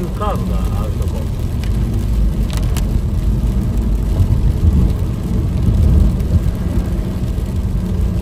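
Heavy rain pours around a vehicle stopped at a roadside rest area on the way to Osaka, a dense, steady roar of drumming and rumble, with voices talking over it.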